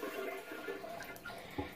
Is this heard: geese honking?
no